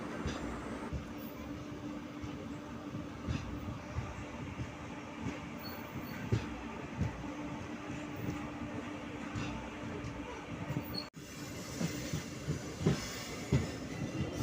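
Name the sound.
passenger train moving slowly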